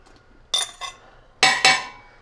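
A spoon stirring nectarine jam with a dab of butter in a pot, giving four sharp, close metallic clinks in two quick pairs against a quiet kitchen background.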